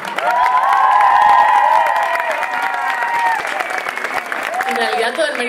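Concert audience in Vitoria applauding and cheering for the singer after a live song, a sustained loud roar of clapping and shouts that holds steady for several seconds, with musical tones and voices mixed in.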